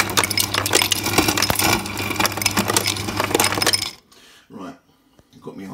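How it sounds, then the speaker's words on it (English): Ice clinks and rattles into a martini glass for chilling, loud and busy with clattering hits for about four seconds before it stops abruptly, followed by a few faint clinks and some quiet talk. "I put a bit of ice in the martini glass to chill it down"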